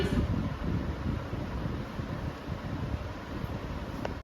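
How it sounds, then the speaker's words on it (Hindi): Steady outdoor wind rushes and buffets the microphone for several seconds, loud and continuous with no voices, near a house. "बाहर बढ़िया सी हवा चल रही है तो मैं बाहर आ गई"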